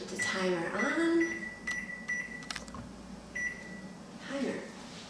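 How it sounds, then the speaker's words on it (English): An oven timer for baking molten lava chocolate mini cakes gives a few short electronic beeps as its buttons are pressed, while someone talks nearby in a kitchen. "Okay, put the timer on."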